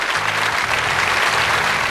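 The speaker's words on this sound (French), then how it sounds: "très applaudi par le public" A studio audience at a 2008 French TV quiz show applauds in a dense, steady wash of clapping that fills the clip, with a low droning tone beneath.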